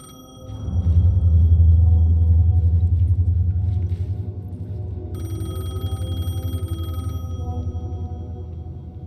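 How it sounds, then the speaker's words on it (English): A payphone rings in the video game Alan Wake, a bright electronic ringing burst over a deep rumbling ambient drone that swells loud, then eases while the ring continues. "The payphone was ringing."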